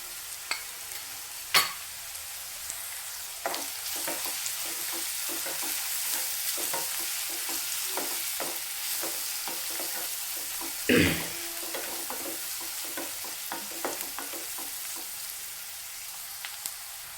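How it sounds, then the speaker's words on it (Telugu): Chopped onions fry in a pan for a Bhimavaram-style chicken buttermilk curry, giving a steady low sizzle with occasional sharp clicks of stirring and one louder scrape, no talking. "ఉల్లిపాయలు ఎక్కువసేపు వేగవలసిన అవసరం అయితే ఉండదండి. కొంచెం వేగితే సరిపోతుంది."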